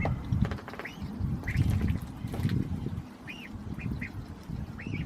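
Young ducks getting swimming water for the first time quack repeatedly in short bursts, near and lively, with some splashing and scuffling underneath.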